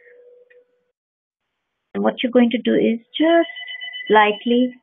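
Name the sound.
telephone ringing, incoming phone call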